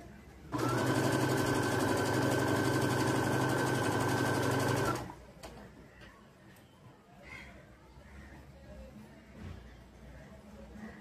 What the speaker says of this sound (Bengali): মুখের দিকে যেটা খোলা থাকবে সেটাতে আমি একটু সেলাই করে নেব।